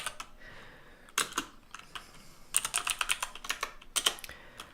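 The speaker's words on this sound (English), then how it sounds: "there'll be some ASMR typing because I can't get away from it" Rapid clicking keystrokes on a computer keyboard, close and fairly quiet, in short irregular bursts with brief pauses between.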